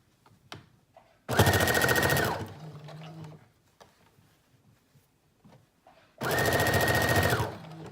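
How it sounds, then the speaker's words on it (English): A sewing machine stitches a folded 1.5-inch sleeve hem on a Simplicity 8218 teddy bear jacket, in two separate loud runs of about a second each with quiet handling noise between them. "and now I'm going to stitch"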